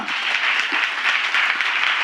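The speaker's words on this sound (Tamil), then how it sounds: "ஆண்டவருக்கு ஒரு கைத்தட்டு கொடுக்கலாமா?" Congregation applause at a Tamil Christian worship gathering: steady, dense clapping from many hands, continuous and fairly loud throughout, with no talking over it.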